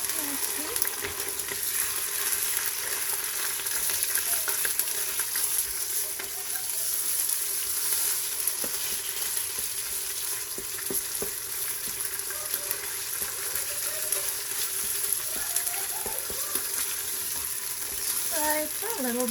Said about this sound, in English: I will dump the 2 tablespoons of ginger garlic paste in there. Stir nicely.